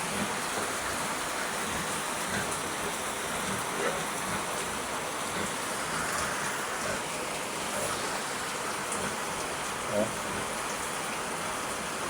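Steady rain pours over a flood-prone creek area, a dense continuous hiss that fills the whole stretch, with a brief murmured voice near the start and a few faint clatters in the downpour.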